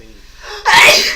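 One sharp, loud sneeze, preceded by a brief drawn-in breath, close up.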